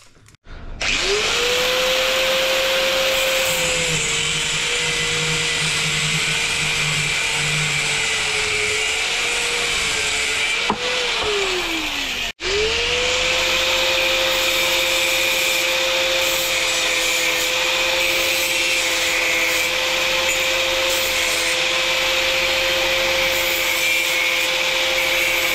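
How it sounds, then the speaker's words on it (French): A power tool cuts through a 10 mm threaded rod, its steady loud whine and grinding held for about ten seconds, dropping off briefly, then starting again at a slightly lower pitch for the rest of the time. "je vais couper une tige filetée de 10 à"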